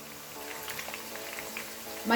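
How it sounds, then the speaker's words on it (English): Onions frying in a pan on a stove burner, a soft, steady crackling sizzle heard close up, with faint spoken words drifting in toward the end. "I'm putting on the onions and I'll fry this for about 40 seconds"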